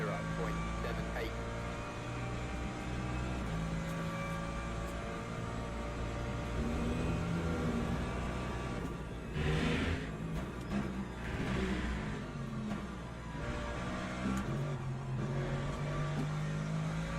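Hypercars in the Le Mans Ultimate racing game come up from behind, their engines revving and swelling louder as they close in, heard under steady in-game car noise while someone talks over it.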